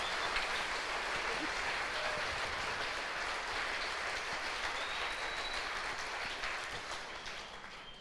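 Congregation in a church applauding, a steady wash of many hands clapping at some distance that tapers off toward the end.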